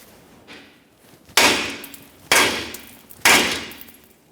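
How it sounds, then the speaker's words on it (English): Three sharp metallic hammer strikes on a tie rod end of a Ford F-150, spaced about a second apart, each ringing briefly before fading; a fainter tap precedes them. "just use a hammer along this area"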